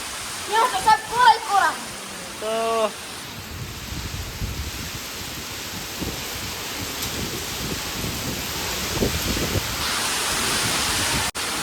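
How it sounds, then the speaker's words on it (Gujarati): Strong wind drives rain water across a courtyard during a downpour: a loud, continuous broadband rush that follows a few seconds of talking at the start. "પવન બહુ વાહેરો પાણી ઉડી ગયા"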